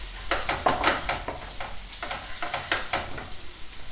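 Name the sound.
stirring a bay leaf into a sizzling pan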